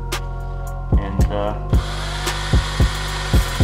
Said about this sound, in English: I just take a valve, chuck it in a normal drill.